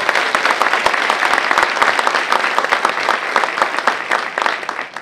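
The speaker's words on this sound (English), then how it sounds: "let's give her a round of applause" Audience applause at a United Way gathering, crisp individual claps from a moderately sized crowd, steady and fairly close for about five seconds before thinning out.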